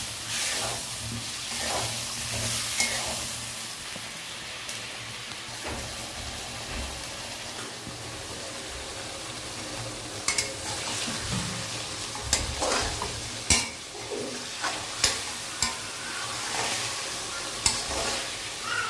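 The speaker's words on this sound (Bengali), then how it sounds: "মাছের মধ্যে অল্প করে আমরা গরম জল দেবো।" Fish frying in hot oil hiss and sizzle steadily as a little hot water is poured in, with scraping stirring strokes and occasional sharp pops rising over the bubbling, close up and without speech.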